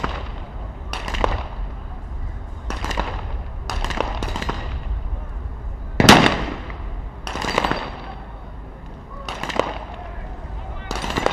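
Sniper rifle shots fired at an outdoor SWAT challenge ring out as several sharp, spaced cracks, one especially loud, over a steady background rumble.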